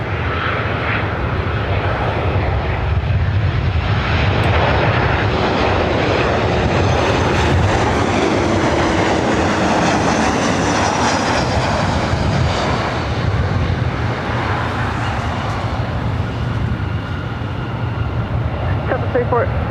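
Southwest Boeing 737-700 airliner at LAX gives a loud, steady jet roar that swells and slowly fades as it passes, with a voice talking faintly underneath.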